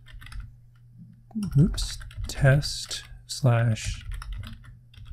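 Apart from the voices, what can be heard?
typing an MQTT topic on a computer keyboard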